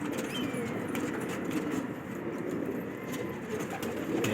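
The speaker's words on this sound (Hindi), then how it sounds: "एक से एक देसी कबूतर है इसके अंदर देखें।" Pigeons coo softly in a pigeon loft among a busy mix of bird sounds, a low murmuring chorus with occasional chirps, steady and close-by.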